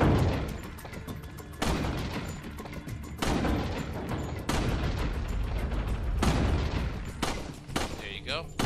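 Repeated gunfire bursts in the Resident Evil 4 shooting range, loud shots with sharp onsets spaced unevenly across the span, some dense volleys, with a faint voice-like trace near the end.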